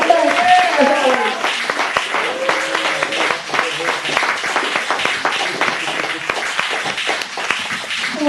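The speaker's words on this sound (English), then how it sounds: "Please start applauding now and keep it going." An audience at a poetry reading in a Chicago venue applauds loudly and continuously, dense clapping close and steady throughout, with some voices calling out over it.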